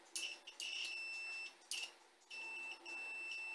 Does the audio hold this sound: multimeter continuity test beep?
yes